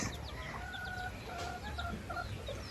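Chickens cluck softly and repeatedly at a low level, with short scattered calls overlapping against a faint background hum.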